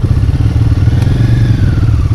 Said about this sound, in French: c'est une belle KTM.